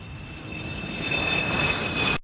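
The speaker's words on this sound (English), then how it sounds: "Dear passengers, please get ready. We're taking off." Private jet taking off, a loud, steady engine roar with a high-pitched whine that swells and then cuts off abruptly at the end, heard alone.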